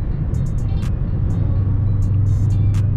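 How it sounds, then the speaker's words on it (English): A supercharged Dodge Durango SRT Hellcat rumbles steadily from inside the cabin at cruising speed, a deep continuous drone with a few faint clicks on top and no talking. "Supercharger just sounds so mean, man."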